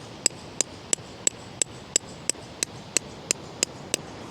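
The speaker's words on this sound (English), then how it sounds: "Just tapping really gently with the hammer there, just to let the natural vibrations lift the shale from the specimen" A hammer taps gently on shale around an ammonite fossil on a beach, striking about a dozen times in an even, unhurried rhythm of sharp, light clicks close by, with no voices.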